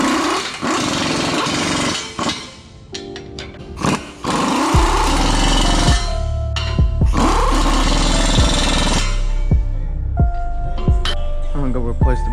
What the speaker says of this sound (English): I'm gonna drive these in a little bit with the small impact